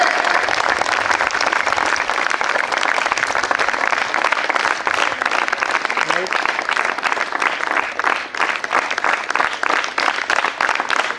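Sustained applause from an audience at a karate championship programme, dense and steady clapping that fills the whole stretch without pause.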